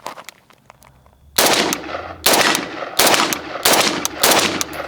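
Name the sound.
FN FNC 5.56mm rifle shots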